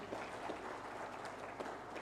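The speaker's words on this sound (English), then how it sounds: "let's give a round of applause" An audience at a USAID health programme event in Uganda claps faintly and thinly, with scattered hand claps heard from a distance.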